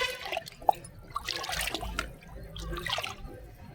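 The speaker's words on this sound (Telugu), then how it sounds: "ఆ మజ్జిగని కూడా ఇందులో పోసేసుకుందాం." Sour buttermilk diluted with water is poured into a container, producing faint, intermittent splashing and liquid trickles with a few soft drips over quiet outdoor background.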